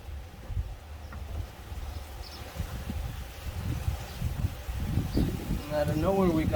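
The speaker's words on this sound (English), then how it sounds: "Out of nowhere we got all kinds of wind." Strong wind gusting outdoors during a Can-Am X3 steering wheel upgrade, a rough low rumble buffeting the microphone and growing louder toward the end, with a faint higher whine at the close.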